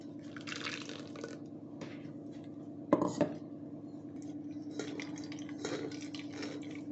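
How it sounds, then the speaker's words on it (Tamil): Ground chutney liquid drips and trickles through a strainer, with soft steady dripping and a couple of louder splashes and clinks from a utensil, close and without talk. "இப்போ வந்து இதை வடிகட்டிடலாங்க."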